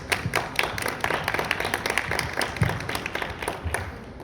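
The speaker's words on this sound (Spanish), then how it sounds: "los recibimos con un aplauso, por favor." Audience applause at a publishing-industry panel in Mexico, a dense steady patter of many hands clapping at moderate volume throughout, with no voices standing out.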